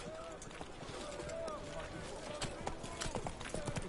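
Horse hooves clip-clopping at a gallop in The Witcher 3 on PS5, a rapid steady rhythm of hoofbeats under continuous game voices and ambience, fairly quiet overall.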